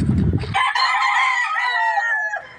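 A Papay Gray gamefowl rooster crows once up close, a long loud harmonic call held for about two seconds after a brief rustle, with no talk over it.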